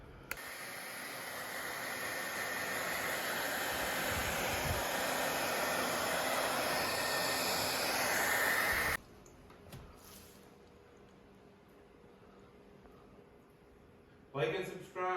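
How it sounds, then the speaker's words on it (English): Hair dryer blowing steadily on a freshly painted mid-century cabinet, a loud, continuous broadband rush for about nine seconds before cutting off abruptly, followed by quieter room noise and a brief closing burst. "I'm just gonna blast these now with the hair dryer to make sure that they're dry"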